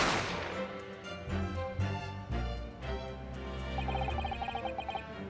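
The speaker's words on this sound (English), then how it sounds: "a gunshot rang in my ears." Gunshot effect from the video game The Great Ace Attorney: one sharp, loud blast right at the start, followed by dramatic game music with layered tones and a brighter melodic passage near the end.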